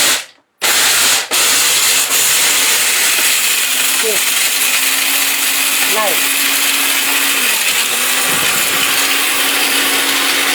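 A blender grinding turmeric whirs loudly and steadily, briefly cutting out near the start before grinding on without a break.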